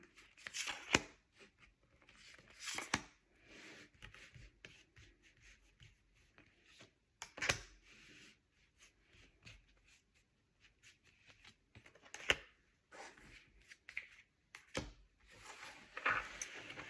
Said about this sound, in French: Je vais tirer les six cartes pour cette quinzaine.